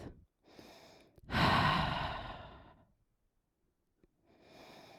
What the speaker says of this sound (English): Starting to build the fire in our belly. Breathe, breathe, breathe.